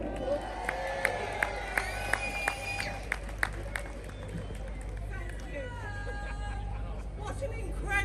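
A crowd at an outdoor street rally cheers and claps as a speaker is introduced, a dense wash of applause with sharp claps near the front and voices rising through it before it fades.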